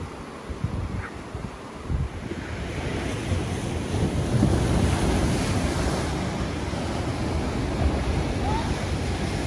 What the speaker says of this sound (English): Looks like the tide's coming in.